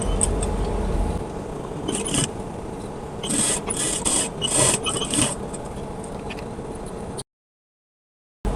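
Sewing machine stitching the back neckline of a kameez, a steady mechanical whirr running for about seven seconds with brief bursts of faster stitching, then stopping.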